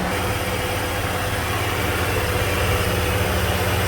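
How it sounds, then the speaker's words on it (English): A 2006 Dodge Ram 1500 quad cab's 3.7-liter Magnum V6 idles steadily and quietly up close, a smooth low rumble with a faint mechanical hum and no revving. "Look at that little baby motor. I figured it'd be a V8. Runs good though. Runs good and quiet."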